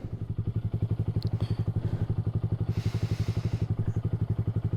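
A Honda Grom motorcycle fitted with a ram air intake idles steadily nearby, its single-cylinder engine giving a fast, even, thumping pulse throughout with no talk.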